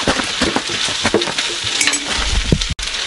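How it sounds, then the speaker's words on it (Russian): Buckwheat porridge sizzles and crackles as it reheats in a pan, a steady close frying hiss with occasional scraping and stirring clicks throughout. "Игорь здесь кашу разогревает нам"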